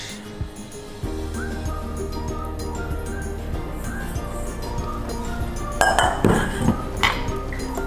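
Sugar, starch and egg yolks mixed in a bowl for pavlova, with a steady low kitchen hum and a few sharp utensil clinks against the bowl near the end, close by.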